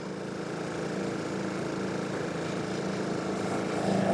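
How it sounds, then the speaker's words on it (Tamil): A speedboat passing on the Kuttanad backwaters in Kerala, a steady mid-pitched engine drone that holds close and even, growing slightly louder at the end, with no speech. "சல்லுன்னு ஒரு ஸ்பீட் போட் நடுவில் போயிட்டு."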